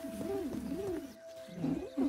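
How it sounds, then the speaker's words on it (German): Pigeon-like cooing in the video game Grounded, soft wavering low coos repeating several times at moderate distance. "Klingt nach Tauben."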